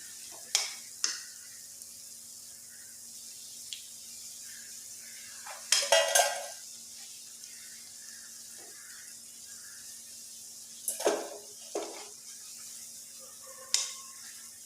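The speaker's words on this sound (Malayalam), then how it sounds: "എന്നിട്ട് നമുക്ക് ബാക്കിയുള്ള കോളിഫ്ലവറും കൂടി ഇതുപോലെ ഫ്രൈ ചെയ്തെടുക്കണം." Wheat-flour-coated cauliflower fries in oil for gobi manchurian, a soft continuous sizzle broken by occasional clatters of a utensil scraping and knocking against the pan.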